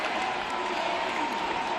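Baseball fans cheering at a Kansas City Royals celebration parade, a steady broad roar of a large crowd heard at a distance, continuous without distinct claps or voices standing out.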